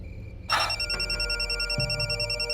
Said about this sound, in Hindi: लगता है मेरे फोन की घंटी बज रही है